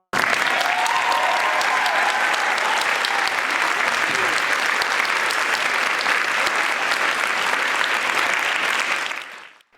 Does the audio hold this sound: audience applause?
yes